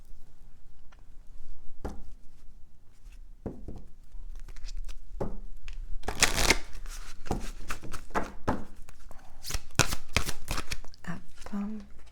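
A deck of cards is shuffled by hand in repeated rapid riffling bursts and clicks, loud and close, with a person speaking intermittently between the shuffles.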